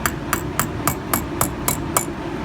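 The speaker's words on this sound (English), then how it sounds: "just use a little punch or a flathead or tap it in with the hammer." Eight sharp metal-on-metal hammer taps at a steady rhythm, close and alone, driving a wheel bearing part into place on a 1999-2007 GMC Sierra or Chevy Silverado 1500 hub.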